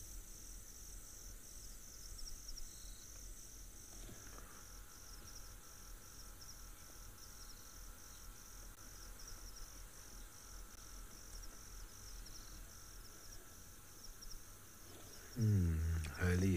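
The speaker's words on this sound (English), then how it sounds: "Early you're hearing all the crickets" Crickets and other insects chirp steadily at evening in the African bush, a dense continuous trill filling the soundscape, with a brief louder rustle near the end.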